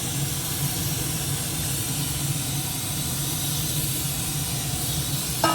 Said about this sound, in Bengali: এবার নারকেলের দুধটা এর মধ্যে দিয়ে দেবো